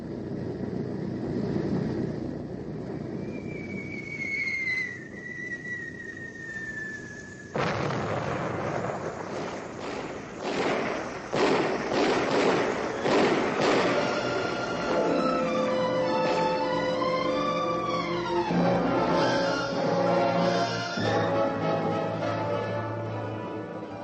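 Aircraft bombs explode in a bombing raid: a series of deep, booming blasts and bursts, some stacked closely together, alongside a descending whistle and a ringing tone. No voices are heard.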